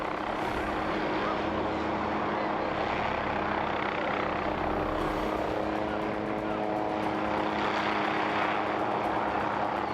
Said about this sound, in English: as the helicopter moves into position, the man starts to stumble